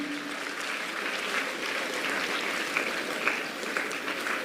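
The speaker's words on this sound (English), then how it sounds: "Let us give a big round of applause for our teachers then." Applause from an audience at a school achievers' felicitation ceremony honoring teachers, sustained even clapping from a sizeable crowd at moderate level, with a few sharper individual claps standing out.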